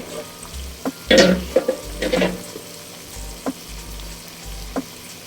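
Chicken cooks in a pan with a low, steady sizzle. Several clattering scrapes and knocks of a utensil come through clearly, with a louder burst of stirring early on and isolated taps afterward.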